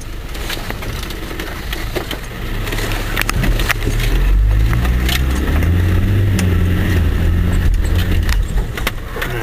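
A 4x4 off-road vehicle in diff lock and second gear climbs over a ridge, its engine rumbling and labouring under load while the body and loose items rattle and clatter, heard close from inside.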